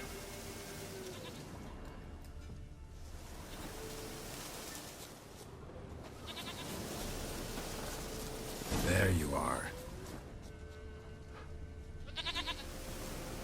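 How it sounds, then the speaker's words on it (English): A goat bleats in The Witcher 3 over a rustling outdoor game ambience, one loud call near the middle, with a voice speaking briefly. "Here, goat."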